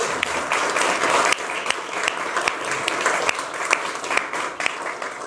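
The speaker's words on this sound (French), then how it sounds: "Ben, on peut l'applaudir." Audience applause for journalist André Bercoff, continuous clapping from a crowd with sharper individual claps standing out, moderately loud and unbroken across the stretch.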